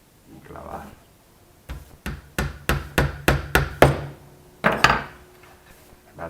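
Small hammer tapping tiny pins into the planking of a model ship: about ten light, crisp taps, a quick even run of eight followed by a short pause and two more, close and fairly quiet.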